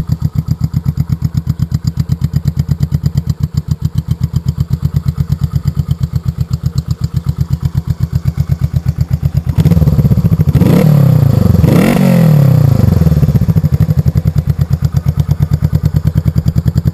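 A 1972 Honda CB350K4 motorcycle engine idles loud and close with a fast, even thumping beat, then revs up twice in quick rising swells before settling back to idle, alone without talk.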